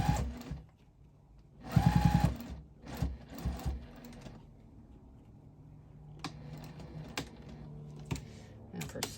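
Sewing machine stitching binding onto a pumpkin hot pad, running in short bursts of rapid mechanical whirring with a loud burst near the start and lighter stitching runs later, close up with no talking.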